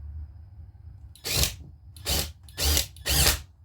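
Four short bursts of a power drill driving screws into 2x4 timber without pre-drilling, each a quick whirring spin lasting under half a second, close by with brief pauses between.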